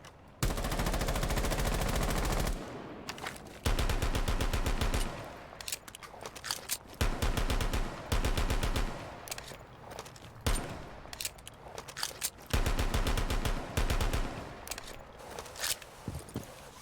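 Bursts of rapid automatic gunfire in a video game, several long sustained sprays separated by short pauses and a few shorter volleys, loud and close, with faint footsteps between bursts.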